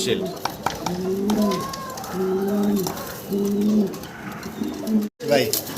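White king pigeons coo in repeated low, throaty rolls, close by, with a person talking over them.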